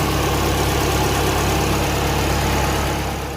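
A turbocharged Suzuki Swift ZC31S engine idles steadily with a low, even rumble and faint vibration, close by and continuous, with no voices.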